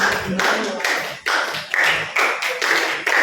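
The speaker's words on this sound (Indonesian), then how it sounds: "Beri tepuk tangan dulu untuk kelompok 5." A classroom of students claps in unison in a quick patterned rhythm, several sharp bursts of group clapping in succession, loud and close, with no talking.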